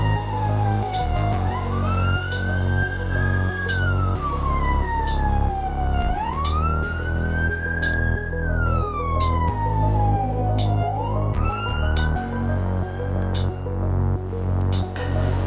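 An ambulance siren sounds during an earthquake drill, its loud wail sweeping up and down in slow repeated cycles, steady and close, over a low rumbling background.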